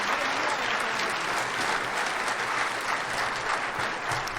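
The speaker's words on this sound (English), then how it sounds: "Give our soloist a round of applause on that tune." Steady applause from a concert audience at a state honors jazz concert, greeting a jazz soloist; dense, sustained clapping holds evenly for the whole stretch without pause.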